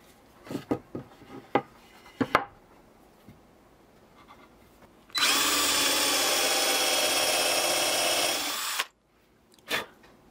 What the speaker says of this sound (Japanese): まずは下穴を開けておきます。